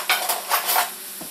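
A minced garlic clove goes into a pan of sauteed onions and olive oil for chicken and rice soup, giving a few brief clinks and scraping stirs with a faint sizzle underneath, no voices.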